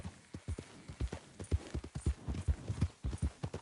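Horse hooves clip-clopping at a steady walking rhythm in the video game Red Dead Redemption 2, with close, clear, evenly spaced beats and no talk.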